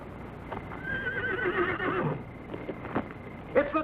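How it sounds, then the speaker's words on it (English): A horse whinnies in a long, wavering neigh, with shorter snorts and hoof clops around it, moderately close. "What's wrong with the horses?"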